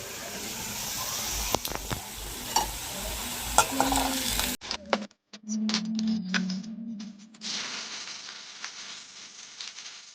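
Cut potatoes fry in a pan with a close, crackling sizzle and occasional clatters of stirring; after an abrupt break the sizzling resumes quieter and more distant.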